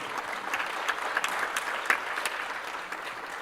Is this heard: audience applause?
yes